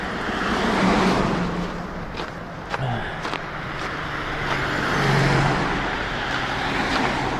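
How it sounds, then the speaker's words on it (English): Cars and other road vehicles pass by on a street beside a pedestrian, a continuous roadway rumble with individual vehicles swelling and fading, fairly close and loud, with no talking. "Sorry about the traffic noise, Nuts"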